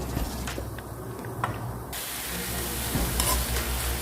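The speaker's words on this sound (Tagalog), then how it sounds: "So let's wait our ground pork to cook." Ground pork frying in a pan for sauteed bitter melon, a steady close sizzle and hiss that swells to a fuller, louder spattering about halfway through, with no talking.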